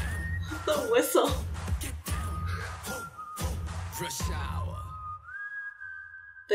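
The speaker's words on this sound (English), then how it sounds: "The whistle" Whistling tones in a music video rise and hold over loud music and voices, ending with a sustained high whistle standing almost alone.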